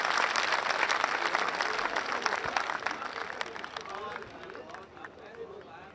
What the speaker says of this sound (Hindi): आप जोरदार तालियों की गड़गड़ाहट के साथ उनका अभिनंदन करें